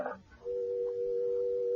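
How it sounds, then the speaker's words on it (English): A steady, faint telephone line tone hums continuously after a brief click, with no voice over it. "It's working. Phone's on."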